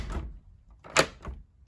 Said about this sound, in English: So when I shut the door